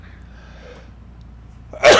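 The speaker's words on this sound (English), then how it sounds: "I'm going to sneeze." A single sneeze bursts out loudly at the very end, after a stretch of near silence with faint murmuring.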